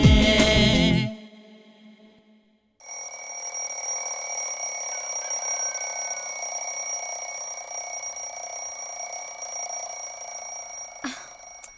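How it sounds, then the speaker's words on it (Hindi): An alarm clock rings in a Hindi-dubbed South Indian action film scene. After a loud opening burst and a short pause, a continuous bright ringing carries on for about nine seconds, then ends with a click. "अलार्म बज रहा है, उठिए ना।"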